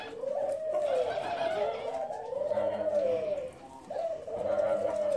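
Turtle doves coo in an aviary, several repeated soft, throaty calls in a rolling rhythm, close and clear with little else around them.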